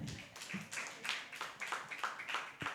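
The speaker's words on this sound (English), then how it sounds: "Can we give her a big hand clap?" An audience of a digital skills outreach session for persons with disabilities giving a round of hand clapping: faint, distant, uneven claps in a loose burst lasting a few seconds.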